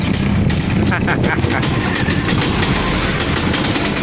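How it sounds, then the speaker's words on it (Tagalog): A noisy e-bike rattles and clatters while riding, a loud continuous rumble with rapid mechanical clicking and wind noise, a voice briefly heard beneath it. "Ang ingay ng e-bike ko."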